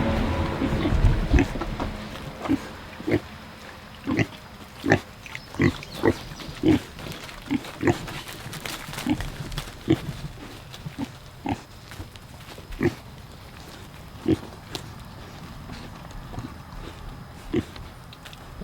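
Pigs grunt and oink in a farm pen, a steady run of short, close snorts and squeals repeating every second or so, with a person calling to them faintly in the background.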